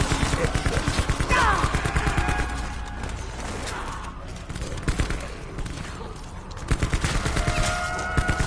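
Rapid gunfire from firearms in Black Ops 4 Zombies, a near, loud stream of automatic shots in dense bursts, pausing briefly midway before resuming with sustained volleys.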